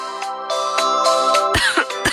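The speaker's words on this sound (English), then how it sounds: "What happened, Mother? Why are you coughing?" A mother coughs repeatedly at close range, a series of harsh throat-clearing coughs over a steady electronic background hum, with no speech.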